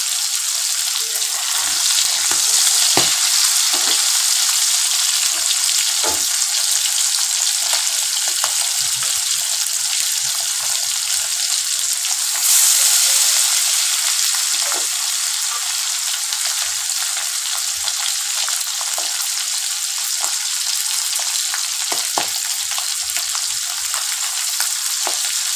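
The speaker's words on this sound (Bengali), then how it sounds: "একটু কড়া করে মাছটা ভাজা হোক।" Pabda fish fry in hot oil with a steady, dense hiss and crackle that holds evenly throughout, broken by occasional soft pops and faint knocks in the pan.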